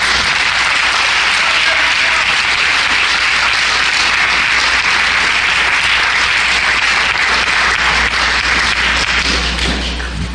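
Sustained congregation applause fills a church service during Holy Week preaching, a dense steady wash of clapping lasting throughout with a low hum underneath and no talk.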